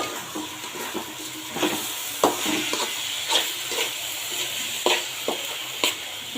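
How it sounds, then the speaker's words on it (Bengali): Broken rice frying in a pan while being stirred, a continuous close sizzle broken by regular scraping strokes of the spoon every second or so. "হ্যাঁ, খুঁটটা আমি এখন ভালো করে পাঁচ মিনিট ভেজে নিব"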